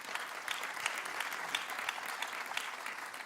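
A church congregation claps steadily and fairly evenly throughout, with dense applause at moderate distance and no talk over it.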